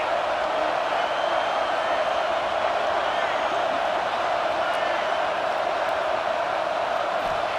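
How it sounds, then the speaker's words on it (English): A stadium crowd at a women's football game roars for the defense on third down, a dense, steady wall of cheering and whooping that holds loud and constant from start to finish. "Decibels rising as the crowd gets behind this defense on third down."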